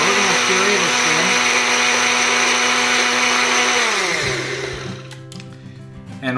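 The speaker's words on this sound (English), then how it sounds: "So we're just gonna puree this thing a couple times." A blender loudly purees Flaming Hot Cheetos hot sauce, running as a steady, close whine before the motor winds down toward the end.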